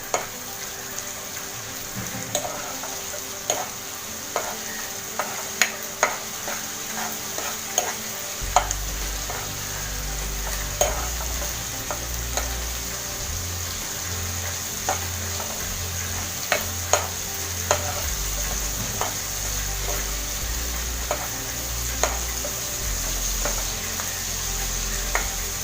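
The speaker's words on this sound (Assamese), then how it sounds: "আদা নহৰু পেষ্টখিনি ভালকে ভাজি লম" Ginger garlic paste sizzles steadily in a hot pan while being stirred for a chicken masala with potato, with soft scraping clicks and a low rumbling hiss beneath, close and continuous without talk.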